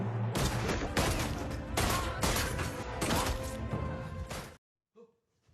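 In a crime film, a fusillade of heavy gunshots hammers out in rapid succession for several seconds, loud and dense, then cuts to near silence with a faint thump.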